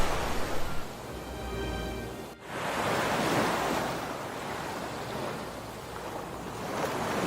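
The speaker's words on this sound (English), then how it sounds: "the churning water and exploding white foam" Churning seawater and white foam in Mossel Bay, South Africa, as an orca attacks a great white shark: a broad, steady wash of surf-like noise with a brief dip midway, then continuing rough and full.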